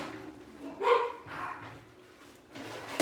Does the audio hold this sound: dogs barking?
yes